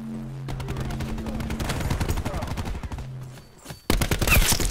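Rapid bursts of assault rifle fire from the video game Black Ops 4 rattle in quick successive volleys, with a brief lull before a loud renewed burst near the end.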